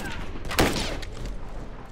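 Rifle fire rings out in The Last of Us Remastered Factions multiplayer on the Lakeside map: one loud shot stands out against a busy, rumbling game background.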